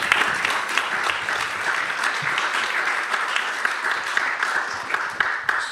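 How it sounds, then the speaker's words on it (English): An audience applauds a speaker at a health conference session, a sustained, even round of clapping from many hands, moderately loud and continuous with a few sharper claps standing out. "A warm round of applause for Mihaela."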